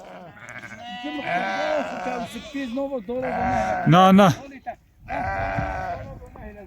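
Lambs bleat repeatedly at close range on a shepherd's farm, wavering cries in several bursts with a loud peak midway, while someone speaks among them.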